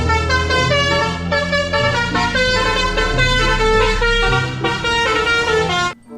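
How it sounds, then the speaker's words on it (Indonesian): Musical multi-tone telolet horn of a toy bus, a loud, continuous melodic sequence of shifting honked notes lasting about six seconds before cutting off abruptly. "Ada bus telolet."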